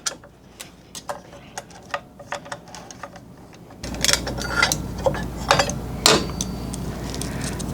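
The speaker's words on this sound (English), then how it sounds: "We're gonna unscrew the link here." A screw on the link of a DeWalt DWS779 miter saw guard is undone, giving a run of light clicking and ticking in a quiet room, then louder clattering and rattling handling noise.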